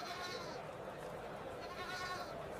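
Goat bleating among several voices talking at a livestock sale, with the wavering animal calls partly mixed into steady crowd chatter and outdoor background noise.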